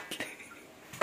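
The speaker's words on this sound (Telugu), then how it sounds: "సో ప్రస్తుతానికైతే నేను గిన్నెలు తోముతున్నానండి" Dishes and pots being scrubbed at a sink clatter in a few quick metallic knocks, two close together at the start and another louder clink at the end, with quiet scraping between.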